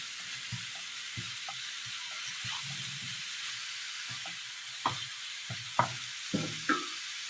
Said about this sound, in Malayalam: ചെറിയൊരു സ്പൂണ് ഇഞ്ചി ഇത് നന്നായി ഒന്ന് വഴറ്റിയെടുക്കാം